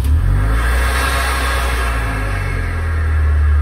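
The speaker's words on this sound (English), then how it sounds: "You can hear the charger, hear the turbocharger spool up immediately when we fire her up." A supercharged and turbocharged R53 Mini track car's engine runs close by with a loud, steady low rumble and a sustained high whine layered on top, holding level before the pitch shifts slightly near the end.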